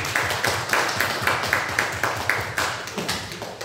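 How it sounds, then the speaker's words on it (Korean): A church congregation claps in thanks to God, a steady rhythmic beat of many hands in unison, moderately loud and filling the room. "우리 박수로 하나님께 감사하겠습니다."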